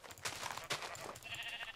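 A sheep in the Minecraft video game gives a short wavering bleat, close and clear, lasting under two seconds.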